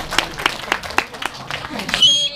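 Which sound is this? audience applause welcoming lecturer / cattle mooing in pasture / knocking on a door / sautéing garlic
audience applause welcoming lecturer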